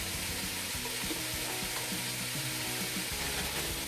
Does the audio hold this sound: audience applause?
no